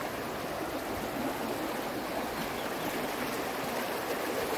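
A small creek in a dry area near Tejupilco, State of Mexico, flows steadily, giving a continuous close rush and gurgle of water with no talk over it.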